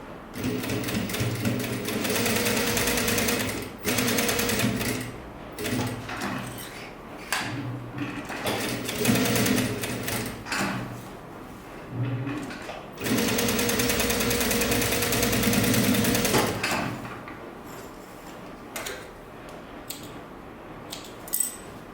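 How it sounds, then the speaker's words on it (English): A sewing machine stitches fabric for a sleeveless top in long steady whirring runs. The motor is close and continuous, with short pauses and small clicks between passes. "You can use the foot in the machine to navigate, or even sew half inches."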